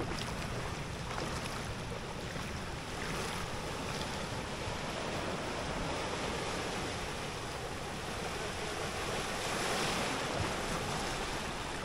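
Ocean waves wash against the rocky shore at Karang Bolong beach in Ujung Genteng, a constant loud surf roar with wind buffeting the microphone and no voices.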